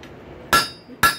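Two sharp, ringing hammer blows on a rail spike at a blacksmith's forge, loud and close, spaced about half a second apart with metallic ring trailing each strike.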